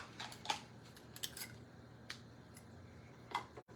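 Scissors snip through paper craft ribbon in a few quiet, sharp cuts spaced apart, with light handling noise between them.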